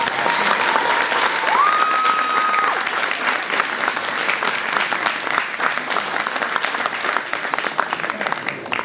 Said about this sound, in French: merci d'avoir applaudi les gens